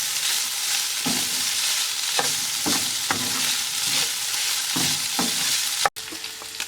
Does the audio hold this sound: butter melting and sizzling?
yes